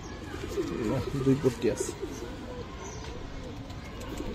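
Old working-line Giribaj pigeons give a few low, throaty coos close by while someone talks over them in the foreground.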